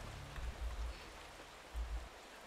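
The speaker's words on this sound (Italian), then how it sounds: "Senti come piove." Steady rain falling in the video game Eternal Darkness, a soft continuous hiss with low rumbling swells, quiet and evenly spread throughout.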